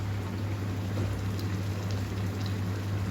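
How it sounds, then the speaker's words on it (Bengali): Potatoes simmering in a pot on a home stove alongside rice and a curry of onion, tomato and coriander, giving a steady bubbling hiss with a low continuous hum and no talking. "এখন আলুগুলো সেদ্ধ হচ্ছে"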